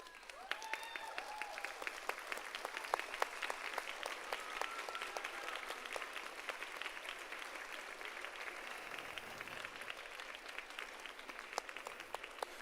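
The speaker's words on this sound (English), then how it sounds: "Students, please stand up and give your parents a round of applause." Students applauding their parents at a health professions school commencement, a steady, even wash of clapping from a large crowd that goes on unbroken for over twelve seconds, heard from a distance and fairly faint.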